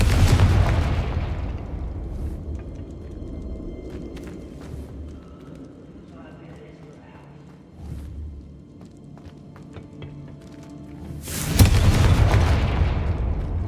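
A Confringo fire spell from Hogwarts Legacy bursts loudly at the start, then a quieter stretch of low rumble and faint game noise follows before a second heavy blast erupts near the end.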